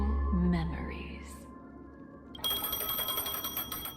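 Phone in Honkai: Star Rail ringing, a bright, steady electronic trill that kicks in sharply partway through after a brief stretch of voice and soft tones.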